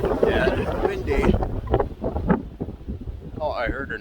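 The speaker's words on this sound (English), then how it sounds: "Oh yeah, the wind's picking up now." Strong gusting wind on an outdoor walk buffets the microphone with a steady low roar that swells and eases, with some faint voice sounds mixed in.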